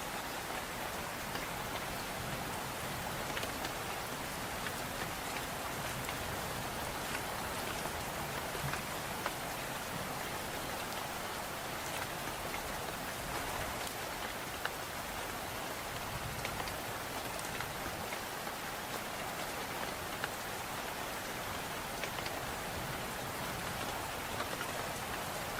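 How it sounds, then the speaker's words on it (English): Steady rain patters on a roof in a continuous, even wash of drops, with fine taps scattered throughout and no voices or other sounds over it. "the rhythmic sound of raindrops tapping"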